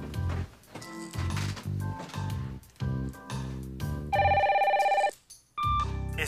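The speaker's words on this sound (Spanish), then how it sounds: "Estás llamando a Camilo Avendaño" A telephone rings in a sitcom office scene, a ringback tone heard through the line while a call is being placed, loud with a steady electronic ringing pattern that cuts off before a voicemail greeting.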